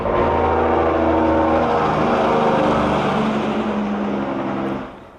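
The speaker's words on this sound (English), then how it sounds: "It's the engine brakes." A truck's engine brakes roar on the road outside a house in Costa Rica, a loud, throbbing low rumble that holds steady, then fades away at the end, with no one speaking.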